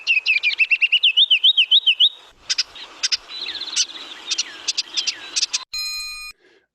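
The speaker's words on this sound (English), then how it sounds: "let's listen to the ruby-crowned kinglet again." Ruby-crowned kinglet song from the Lake Tahoe area: a run of very high, thin lead-in notes followed by rapid warbling phrases, then a scattering of separate chirps, ending with a short electronic tone.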